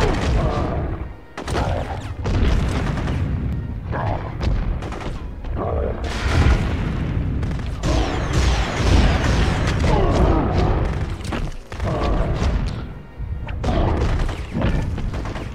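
Heavy, continuous gunfire and booming blasts from guns in the Hulk PS2 game, dense bursts and explosions crowding one another up close, with a voice talking over the din.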